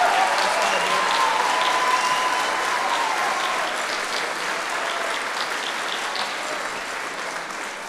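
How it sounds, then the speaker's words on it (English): Sustained audience applause for standing junior high honor band students at a parish honor band concert, dense and steady throughout, easing slightly toward the end. "Let's give them a round of applause."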